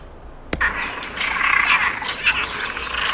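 Cuban tree frogs call by a roadside, a rasping chorus of croaks rising after a sharp knock, continuous and moderately close, with no talk.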